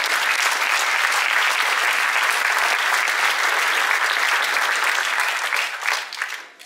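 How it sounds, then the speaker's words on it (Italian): Audience at a conference in Ranica claps in a sustained, dense round of applause that fills the room at even loudness, then thins and fades out in the final second. "Anche l'applauso è doveroso."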